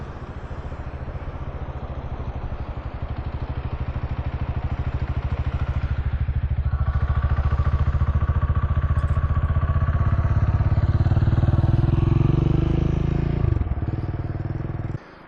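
Dirt bike riding on a beach, its engine droning loudly and steadily, building in intensity through the middle before easing off and cutting out near the end.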